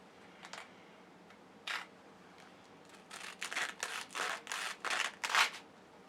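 3D-printed PLA and ABS knives cut through material in a series of short, crisp scraping strokes, a few spaced out early and then quick repeated swipes, close and dry.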